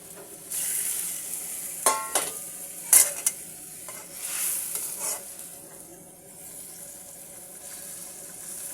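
Fried potatoes sizzle in a hot pan alongside fried tengra fish, with a few sharp clinks and scrapes of stirring; close and fairly quiet, no talking.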